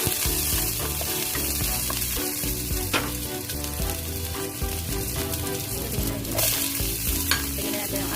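Garlic fries in chicken fat and oil for Hainanese chicken rice, a loud continuous sizzle close by with occasional stirring scrapes in the pan.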